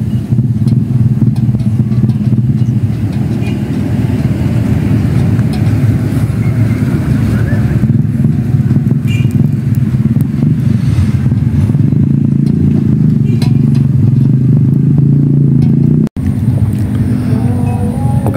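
A motorcycle engine drones steadily and loudly throughout, rough and rumbling with clattering undertones, near a fishing spot beside a waterboom park, with no talk over it.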